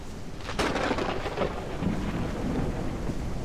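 Rolling thunder and steady rain from a thunderstorm in the Gothic 1 Unreal Engine remake, a loud crack early on giving way to sustained rumbling over a constant downpour, with no voices.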